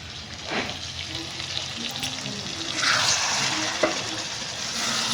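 Chicken being stir-fried down in a pan on a homemade tin stove, a steady sizzling hiss with soft stirring scrapes, continuous and fairly close, rising a little midway.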